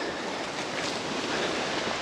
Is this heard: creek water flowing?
yes